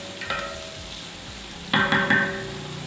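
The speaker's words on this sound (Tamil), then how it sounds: "வெங்காயம் பச்சை மிளகாய் நல்லா வதங்கட்டும்." Onions and green chillies fry in a large pot of oil while cooking tomato rice for a hundred people. A steady sizzle runs throughout, with two short louder bursts of stirring.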